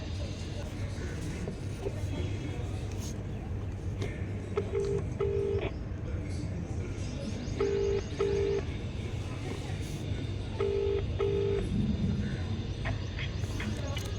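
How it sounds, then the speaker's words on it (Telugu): Telephone dialing tones from a call being placed: three separate pairs of short, steady beeps, spaced a few seconds apart, sit over a constant low background hum, with no speech. "సరే దివ్యకు ఫోన్ చేస్తా."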